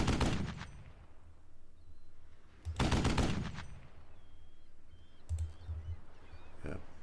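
Machine gun fire in the wargame Squad Battles: Advance of the Reich, two long rattling bursts with a shorter burst later, over a low rumbling battlefield background with distant chirps.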